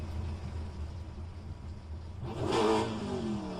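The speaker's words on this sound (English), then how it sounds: "FSR mod has extremely loud engine" Race car engine in a racing video game mod, set on the Mont Tremblant circuit, droning steadily under a low rumble before surging into a louder rev with rising pitch near the end.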